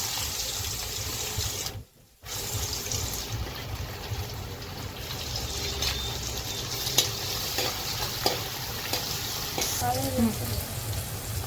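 Cumin, green chili and onion fry in hot oil with a constant sizzling hiss, broken by a brief dropout and light stirring scrapes and taps.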